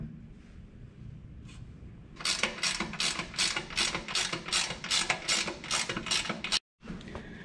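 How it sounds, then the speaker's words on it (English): A big crescent wrench working metal tabs on a Farmall H tractor, a rapid series of about a dozen sharp metallic clicks and ratcheting strikes in steady rhythm, close and fairly loud, after a quieter start. "I ended up using a big crescent wrench to bend these tabs out a little bit"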